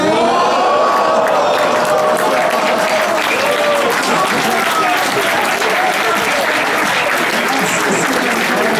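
Loud, dense audience applause at a health hackathon pitch final, continuous clapping from a large crowd with some cheering and voices mixed in throughout.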